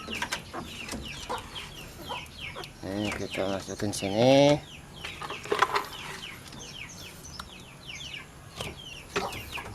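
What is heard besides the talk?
backyard chickens clucking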